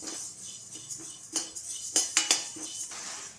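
Red rice dry roasting in a pan for a health-mix porridge flour, heard as dry scraping and clinking strokes of a metal spoon against the pan, a handful of sharp stirs close by.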